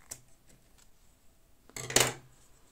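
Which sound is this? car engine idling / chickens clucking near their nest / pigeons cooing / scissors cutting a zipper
scissors cutting a zipper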